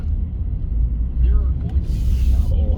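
Steady low rumble of road traffic on Las Vegas Boulevard heard from inside a moving vehicle, a continuous drone with a brief hiss of a passing vehicle near the end.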